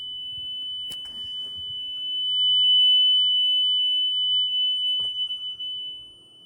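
A flutter test tone plays from a Nakamichi Dragon cassette deck as a steady, pure high-pitched whine held throughout, with a couple of soft clicks and faint handling noise beneath it.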